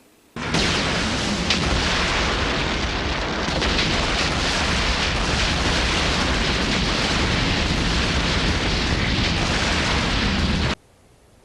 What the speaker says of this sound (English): Did the graves just spontaneously explode?